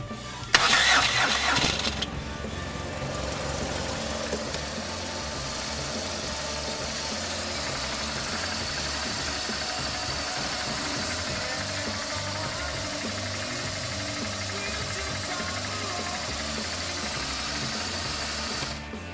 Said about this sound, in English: Now start the bike.